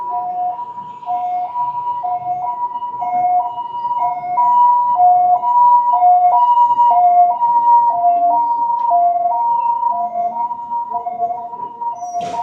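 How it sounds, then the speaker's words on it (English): A loud ambulance siren sounds close by, its two-tone wail alternating steadily high and low as the vehicle passes, with faint traffic noise beneath and no talking. "uh-oh, here comes the ambulance."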